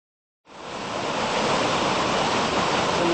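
Big Creek in the Great Smoky Mountains rushing beneath a bridge, a loud steady broadband wash of flowing water that swells up from silence and holds without break.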